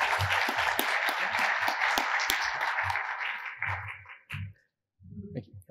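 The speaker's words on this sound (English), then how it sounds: "So please, a round of applause for Dr." A conference audience applauding a speaker, dense clapping building and holding for several seconds before fading out into a brief pause and a voice.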